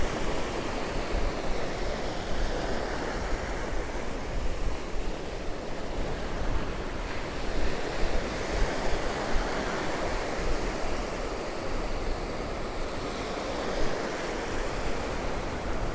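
Wind and surf roar steadily on Cromer beach in a continuous broadband wash with light wind buffeting on the microphone and no voices.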